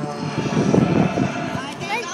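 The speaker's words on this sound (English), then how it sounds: "This little airplane, there was only 78 of these built. It's from the Czech Republic." Small Czech-built propeller airplane drones past at an airshow, its engine note rising briefly then fading, with a voice talking over it.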